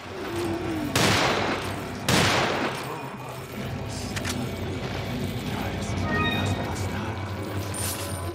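Two sharp, loud gunshots in Resident Evil 4 ring out about a second apart, then a dense rumbling ambience continues with faint mechanical noises.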